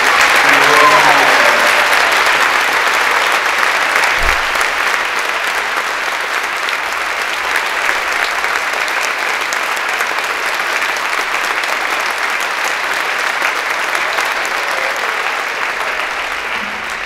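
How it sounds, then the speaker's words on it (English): Sustained applause from an audience at a high school academic and athletic awards night, honoring the public address announcer; steady, dense clapping fills the hall throughout, loud and continuous without letting up. "I'd like to give an ovation to Mr. Dan Ballman, the PA voice"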